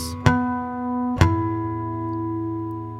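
Chiming natural harmonics on guitar from a song intro: two clean plucks roughly a second apart, each ringing with a long, glassy sustain in an otherwise quiet room.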